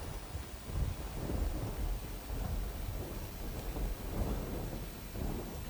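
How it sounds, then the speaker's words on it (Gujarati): Steady monsoon rain pours down in Mansa, Gandhinagar district, Gujarat, with a dense, continuous hiss and a low rumble underneath, no voices. "ઉત્તર ગુજરાતના અનેક જિલ્લાઓમાં વરસાદ પડી રહ્યો છે"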